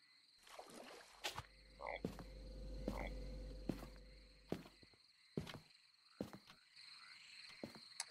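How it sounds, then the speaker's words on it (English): Frogs croak repeatedly in a lakeside night ambience in the video game Loveland, with crickets chirping and sharp clicks scattered throughout; a low hum swells in the middle, and the croaks sound fairly faint. "The frogs are the locals?"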